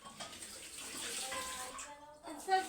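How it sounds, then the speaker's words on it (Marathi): Water splashes steadily while being poured to wash down a floor or surface at home, a continuous near wash with a faint voice in the background. "असं धुवा लागते पाणी टाकून,"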